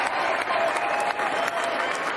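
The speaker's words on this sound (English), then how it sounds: "They're just clapping." Crowd applause at an executive order signing by President Trump on his first day in office, a steady dense wash of clapping from many hands throughout, fairly close and sustained without pause.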